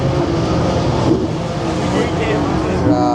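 A drift car's engine revs loudly and close at a mountain drifting meet, a dense steady roar with shifting pitch, mixed with crowd chatter and talk.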